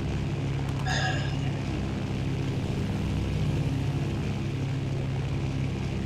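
A propeller warplane drones steadily overhead above a base during a World War II-style video game battle, its engine hum continuous and fairly loud throughout, with a brief tonal game cue near the start.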